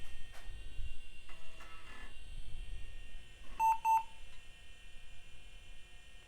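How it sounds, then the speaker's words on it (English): A Compaq Presario CDS 524 all-in-one computer sounds two short, clear, high startup beeps in quick succession over a steady electronic hum, with faint clicks before them. "Still with the double beeps, eh?"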